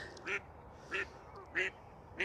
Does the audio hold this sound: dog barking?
no